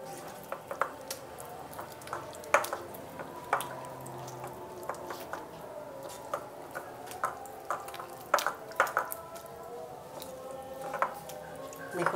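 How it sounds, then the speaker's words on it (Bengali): Potato wedge batter is stirred by hand in a bowl, giving faint wet squishing and soft clicks and taps against the bowl over about twelve seconds. "হাত দিয়ে নাড়া দিলে এখানে একটু চাকা চাকা থাকে এটা ভেঙে যাবে"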